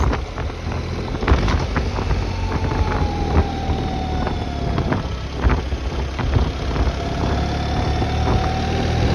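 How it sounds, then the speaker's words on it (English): A 2025 BMW R1300 GS boxer twin, rated at 107 kW and about 237 kg, drones steadily under heavy wind rush while riding, with a whining tone that sweeps in pitch through downshifts. "Listen to the boxer twin whine on change down."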